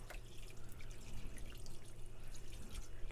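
Cold tap water runs into and rinses out a cavity while making bacon at home. A close, splashing trickle with uneven drips and gurgles carries on throughout, with no talking.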